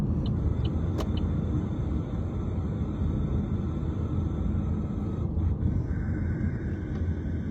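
A car that needs repair or servicing hums along steadily while driving, its engine and road rumble droning low and continuous, with a couple of faint clicks and a thin high whine entering near the end.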